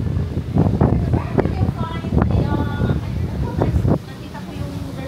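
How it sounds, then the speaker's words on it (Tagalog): Wind gusts on the open deck of the cruise ship Royal Caribbean Odyssey of the Seas, a low rumbling buffet against the microphone that sits under people talking. "Mahangin."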